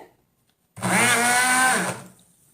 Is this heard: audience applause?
no